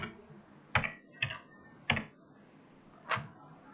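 Four separate, close keystroke clicks on a computer keyboard as a key pair name is entered, spaced irregularly and faint against a quiet background.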